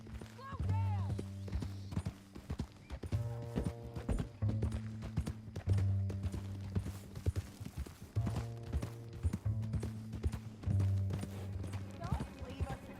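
Horse hooves clip-clopping in the Western video game Red Dead Redemption 2, a steady rhythmic trot at close range under a music score, with voices talking over it.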